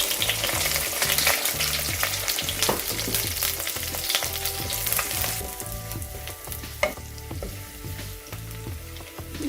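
Onions frying in a pan for drumstick leaf soup, with a steady sizzle, rhythmic stirring, and crackle that thins toward the end.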